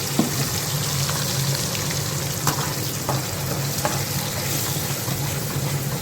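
Potatoes sautéing with salt and spices in a pan, a steady close sizzle with occasional spatula scrapes and clicks, no talking.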